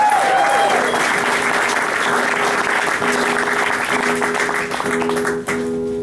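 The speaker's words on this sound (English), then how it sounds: "Let's hear it again for John Nielsen." Steady applause from a crowd fills the room for several seconds, dense clapping at an even level with a brief tonal sweep at the start.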